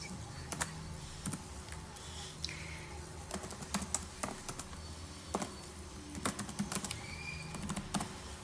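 C code is typed on a computer keyboard in quick, irregular bursts of close, crisp key clicks with short pauses between runs, and no one speaks.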